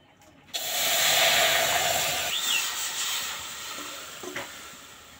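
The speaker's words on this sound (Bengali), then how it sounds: "বিটের জলটা দেখুন ফুটে গেছে।" Beetroot juice in a wok on a stove bursts into a sudden loud hiss and sizzle that settles into a steady steaming bubble, slowly fading over a few seconds.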